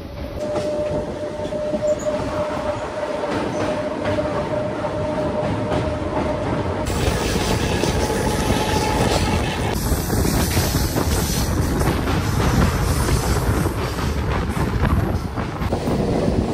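A DEMU local train runs through Sevoke forest, its rumble loud and steady throughout, with wheel clatter and a brief tonal whine in the first half.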